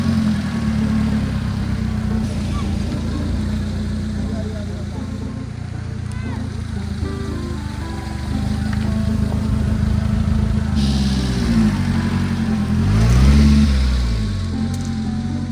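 Subaru Sambar kei truck reversing slowly so its left rear tire climbs onto a step, with a steady low engine hum throughout that swells slightly near the end, under continuous talking.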